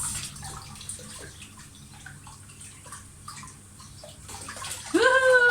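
Water splashes and sloshes in a bathroom sink during a child's water fight, with irregular drips and splashes throughout, a voice at times, and a louder rush of water at the very end.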